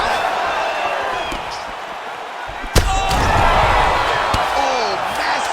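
A sharp single impact of a diving punch landing flush to the head in the UFC 5 video game, one loud crack cutting through steady crowd roar and commentary.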